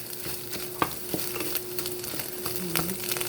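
Vegetables stirred into frying egg in a pan, a spatula tapping and scraping over a low sizzle with a steady background hum, close and without speech.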